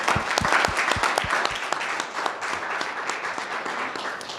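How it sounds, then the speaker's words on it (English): Audience at a sustainable livestock practices session applauds a Growing Green Award recipient, a loud burst of many hands clapping that thins and fades after a couple of seconds. "I thought we ought to give him a round of applause."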